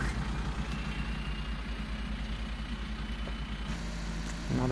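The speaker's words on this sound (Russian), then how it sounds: "а мы сейчас подгоним трактор" A tractor engine idles steadily in the Farming Simulator 15 game, a continuous low rumbling drone that stays loud and even throughout, with a brief shift near the end and no talking.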